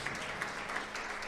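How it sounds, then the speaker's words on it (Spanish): A church congregation claps together in a steady, continuous round of applause that fills the space evenly, with faint voices mixed in. "Denle un fuerte aplauso al Señor en esta tarde."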